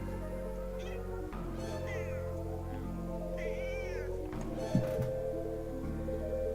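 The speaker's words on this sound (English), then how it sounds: "Meow." A cat meows a few times, short upward wavering cries spaced a couple of seconds apart, heard faintly over a steady droning tone with a light thump near the end.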